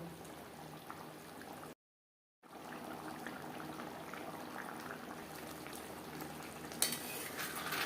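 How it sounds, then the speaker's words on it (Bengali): Eggs simmer in curry gravy in a pan, giving a steady low bubbling and gentle sizzle, broken by a brief silent gap, with a faint clink near the end. "গ্রেভির সাথে ডিম আরও তিন চার মিনিট রান্না করব"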